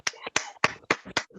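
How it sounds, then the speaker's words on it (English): Scattered claps from a few unmuted participants on a video call after a visiting writer's reading, about five sharp, separate hand claps in a loose rhythm, thin and compressed as they come through the call. "we can take the mute off and give some claps"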